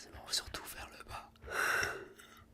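A slow, breathy evening yawn from a tired person in a quiet room, rising into a drawn-out airy swell near the close after some soft whispered murmurs.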